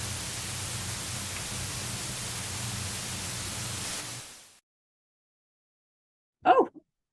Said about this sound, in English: I was just watching some white noise